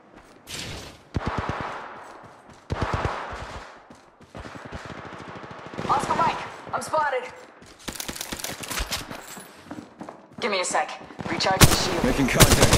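Gunfire in an Apex Legends Mobile battle royale match, repeated loud bursts and rapid automatic volleys with sharp cracks in close succession, mixed with in-game voice callouts and game effects.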